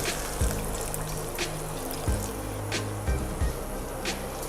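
Water poured into a pot of chilli bean and minced meat stew, a soft continuous rushing trickle over a background hiss, with a few light knocks.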